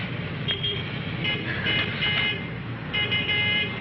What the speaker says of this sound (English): There's my bus now.